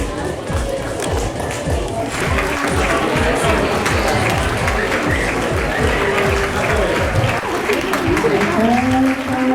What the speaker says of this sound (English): please clap for Jack